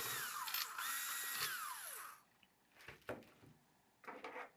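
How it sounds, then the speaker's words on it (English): Hand or small powered screwdriver backing out the screw that holds a key lock on a Dynapower USA unit's front panel: a close, steady whirring buzz for about two seconds, then a few short metallic clicks and rattles as the part loosens. "Now take your screwdriver and remove the screw that's holding the key lock in place."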